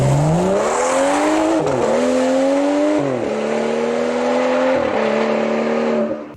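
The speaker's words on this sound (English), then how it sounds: "The N55s have that sweet, buttery, smooth BMW inline 6 engine sound, and they sound so much better." A BMW N55 inline-six in an F-chassis car revs loud and close, its smooth tone climbing through several gear changes with brief dips between shifts before cutting off at the end.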